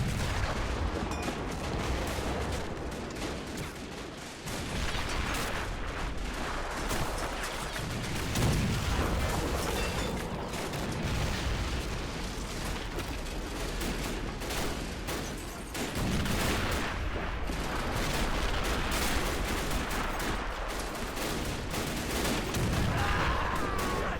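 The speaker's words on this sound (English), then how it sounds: "German artillery is now zeroing in" German artillery pounds away during a WW1 winter trench battle in a video game, with dense, continuous booming gunfire and distant rumbling blasts rolling on without pause, no voices over it.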